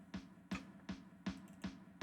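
Reverb-heavy snare drums in the build-up of a synth rock track strike in a steady pulse, about six hits roughly every 0.4 seconds, each crack washing into a short, quiet tail with no voices.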